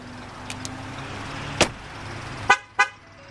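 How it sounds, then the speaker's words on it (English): A 2013 Ford Fusion Titanium 2.0T sounds short electronic chimes after losing detection of its proximity key fob, a few brief tones spread over a few seconds over faint background hum, ending with two sharper clicks. "The vehicle also chimed a few times, letting you know it's lost detection of the proximity key fob."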